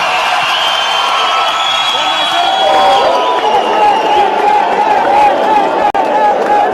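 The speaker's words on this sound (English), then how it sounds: "A round of applause for Dr." An audience at a public lecture cheers and whoops for Dr. Mbuyiseni Ndlozi, a loud, continuous crowd roar with high shouts and a babble of voices, then one brief dropout near the end.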